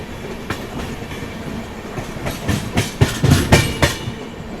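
A Duronto Express train running slowly near Panipat, with steady rolling rumble and a run of louder clickety-clack wheel beats over rail joints building toward the end, heard from on board.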